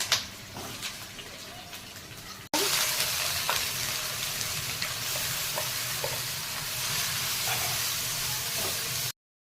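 Steady crackling sizzle of onions frying in a pan for mutton curry, close and continuous, starting after a quieter moment and running until it cuts off.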